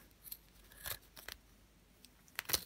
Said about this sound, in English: I'm gonna just simply cut it with a scissor